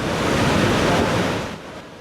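Ocean waves at Yoff beach in Dakar in the early afternoon, a loud, steady wash of surf mixed with wind noise that swells and then gradually eases off, with no voices.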